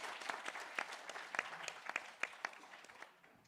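A conference audience claps, its applause thinning out and fading toward the end, moderately near with no talking over it.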